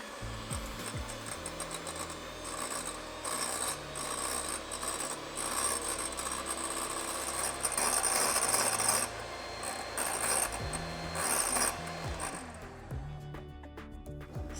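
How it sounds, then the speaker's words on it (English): An electric hand mixer whips egg whites into meringue, a continuous close buzzing whir with rhythmic scraping of beaters against the bowl, steady for the full length. "mix it on high speed with a handheld mixer or a stand mixer until stiff peaks are formed"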